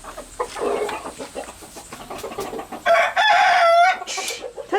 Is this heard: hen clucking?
yes